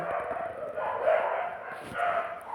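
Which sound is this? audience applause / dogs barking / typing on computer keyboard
dogs barking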